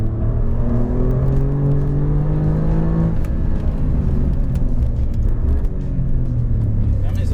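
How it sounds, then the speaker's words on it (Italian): Alfa Romeo Giulia Quadrifoglio accelerating hard through its eight-speed torque-converter automatic, a loud continuous engine drone rising in pitch, then stepping down at a gearshift and climbing again, heard from inside the car over steady road rumble. "Questo cambio automatico, invertitore di coppia, 8 rapporti, tira delle vere sberle in cambiata."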